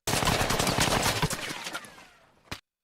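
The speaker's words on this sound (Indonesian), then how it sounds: "Tapi tiba-tiba, terdengar suara letusan senjata" Rapid bursts of gunfire in a sound effect for a Soviet–Afghan war scene, dense overlapping automatic shots for about two seconds that fade out, followed by one final sharp crack, loud and with no talking.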